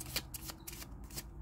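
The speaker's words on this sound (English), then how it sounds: "this feels good to shuffle." A deck of Modern Witch Tarot cards is shuffled by hand, giving a rapid, soft papery rustle with rhythmic flicks, close and steady throughout.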